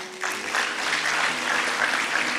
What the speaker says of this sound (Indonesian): Kok enggak ada tepuk tangan buat Tuhan?